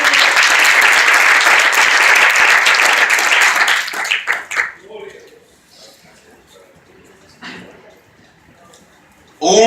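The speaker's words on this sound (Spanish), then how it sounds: "Denle un aplauso al Señor," A church congregation applauds during a Sunday worship service, a loud, dense burst of clapping that fades out after a few seconds into a quieter stretch with faint voices and small sounds.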